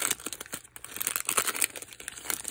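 A Magic: the Gathering card pack is opened up close, its crinkly wrapper crumpling and tearing in a continuous rustle of sharp, bright crackles with no talking.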